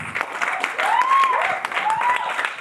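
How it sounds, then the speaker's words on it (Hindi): Loud audience applause with a sustained wash of clapping at a film promotion event, while rising whistles cut through it and a voice is heard in the mix. "एक बार जोरदार तालियां प्लीज."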